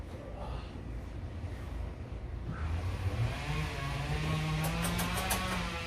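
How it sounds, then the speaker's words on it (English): A 1959 Cadillac engine, just fitted with a cleaned oil pan and new gasket, cranks and catches on its first startup, a steady loud mechanical rumble with a rising tone nearby. "Our very first startup after cleaning the oil pan and replacing the gasket."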